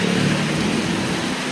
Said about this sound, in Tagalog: Naulan na tayo, naulan na. Lakas ang ulan.